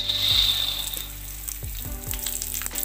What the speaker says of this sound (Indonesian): Setelah minyak gorengnya panas, kita goreng yang pertama itu kacang tanahnya terlebih dahulu ya